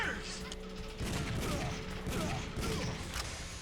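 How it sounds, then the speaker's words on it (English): Rapid, dense gunfire in the Gabriel Knight: The Beast Within video game: a sustained noisy clatter of shots filling the moment, loud and continuous with no clear gaps. "I'm shooting bad guys"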